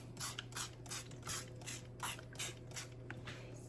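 A spray bottle mists freshly baked Jamaican rum fruit cakes, about eight quick, soft hissing bursts in a steady rhythm over a faint low hum, quiet and close.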